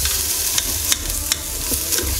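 Onions being scraped off the bottom of a Ninja Foodi pot: a loud, constant sizzle with several quick scraping strokes of a utensil against the pot base, close and without talk.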